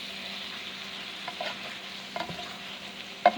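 Pork browning in vegetable oil in a pan, a quiet steady sizzle with a few soft scrapes and one sharper clink near the end.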